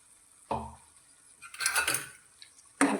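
A spoon stirs a creamy spinach-pea curry in a pan, making three separate clinks and scrapes of metal on metal against a quiet background.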